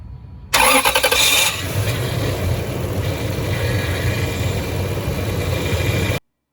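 A 2000 Lexus LX470 engine cranks briefly with a loud starter whir, then catches and settles into a steady, close idle until it cuts off.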